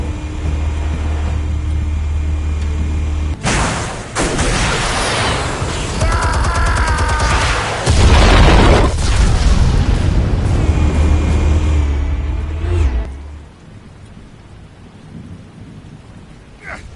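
Explosives detonate in a video game: a loud, deep rumbling blast with heavy low-end crackle swells for several seconds, then cuts off abruptly and leaves a quieter tail.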